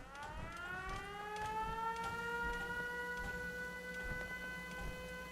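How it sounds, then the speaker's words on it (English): Warning siren in Fallout 4, switched on and off by settlers: a steady rising-then-level wailing tone with layered harmonics, loud and continuous, over a low rumble with scattered clicks and thumps of game action. "The cool thing is they put this siren on and off."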